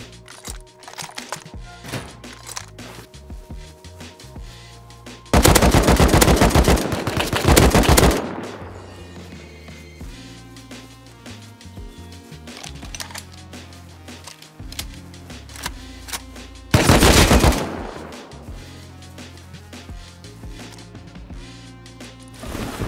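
Automatic AK rifle gunfire in the survival game Rust, two loud sustained bursts of rapid shots standing out from a busy background of game and ambient noise.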